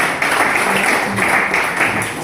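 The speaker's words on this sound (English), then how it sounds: "Please let's give our chief medical director a round of applause." Audience applause for a chief medical director at a farewell media event in a conference hall, a steady dense wash of clapping sustained throughout without a break.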